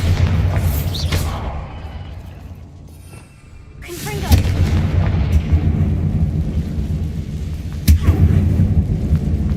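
The Bombarda explosion spell goes off inside a closed mine in the video game Hogwarts Legacy, with loud booming blasts and rumbling debris bursts repeating across the scene over game background sound.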